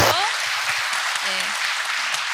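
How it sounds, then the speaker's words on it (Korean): Steady clapping fills a hall as the audience at a year-end book concert welcomes a guest, a continuous wash of hands with faint voices mixed in. "박수 한번 주시죠."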